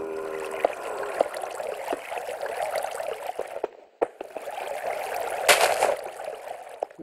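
Flowing water in Minecraft: a steady, close gurgling trickle runs throughout, briefly dipping before resuming, with faint clicks and game noises mixed in.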